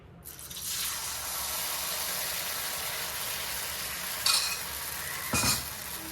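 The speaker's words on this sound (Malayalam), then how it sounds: "ഒരല്പം ഒഴിച്ചു കൊടുത്തതിന് ശേഷം അതൊന്ന് ചൂടാകും ഈ മാവ് നന്നായിട്ട് ഒന്നുകൂടെ ഒന്ന് കലക്കി നമുക്ക് ഒഴിച്ചു കൊടുക്കാം" Kalathappam batter frying in hot oil, a constant bright sizzle that starts abruptly and holds steady, with a couple of louder bursts of crackling near the end, no voices.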